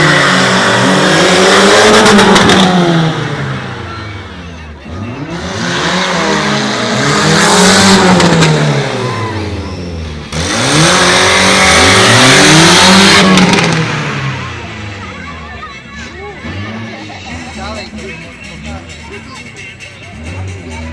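Two monster truck engines rev hard at an outdoor show in Piastów, with three loud, sweeping surges of roaring acceleration that swell and fall away, the last one trailing off more quietly.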